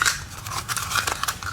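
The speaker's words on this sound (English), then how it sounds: "Now peel our sticker off, put it on." A sticker being peeled off a YZ125 dirt bike fork guard, giving a close crackling, ripping sound in short uneven bursts with no talk.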